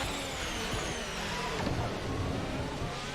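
Race car engines in the F1 2020 video game at Istanbul Park, Turkish GP, roar together at a restart after a red flag, a dense steady drone of revving cars with no talk.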